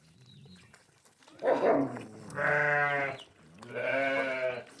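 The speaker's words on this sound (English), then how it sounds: "I hear my cows hollering." Farm cows call out nearby in three drawn-out, throaty bellows, each louder than the last, separated by short quiet gaps.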